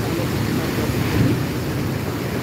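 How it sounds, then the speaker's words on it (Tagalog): Storm surge waves pounding a small seawall on a Bicol boulevard, a dense, continuous roar of surf and wind buffeting the microphone, with a swell of louder crashing midway. "ginagawa lang na maliit na seawall ng dagat na sobrang lakas ng hampas"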